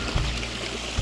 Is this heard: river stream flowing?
yes